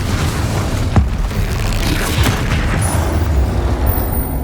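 Repeated spell blasts from combat in Hogwarts Legacy, including Confringo and Incendio, give a dense, continuous run of booming explosive bursts with a sharp crack near the start, loud and close throughout.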